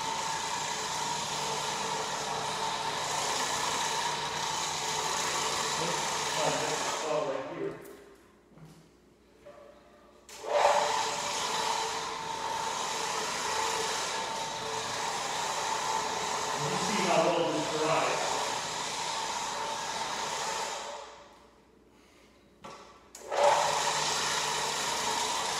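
An orbital floor cleaning machine runs with a steady, loud broadband whir, cutting out twice for a few seconds of near silence before starting up again.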